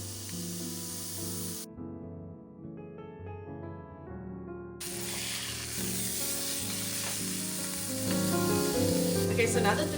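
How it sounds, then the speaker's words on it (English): A chuck roast sears in a hot skillet, giving an even, close sizzle and crackle with a brief quieter gap, then steady frying that grows a little louder toward the end. "so now that the chuck roast has been searing for a while"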